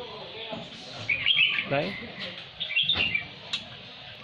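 A red-whiskered bulbul kept free-flying around a house gives bright, quick chirps in short bursts, fairly close, while a person talks softly between the calls.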